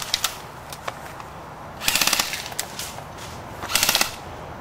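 Airsoft guns fire during a team game in short bursts and scattered single pops, two louder rapid volleys standing out among sparser shots, all fairly quiet and distant with no talk.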